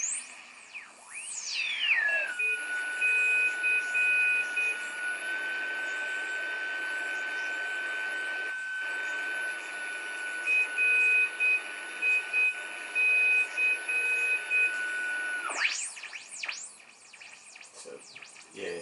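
A Heathkit GR-81 receiver produces steady continuous-wave tones, a clear sustained whistle over faint static lasting about thirteen seconds, framed at both ends by sweeping tuning squeals and short keyed beeps.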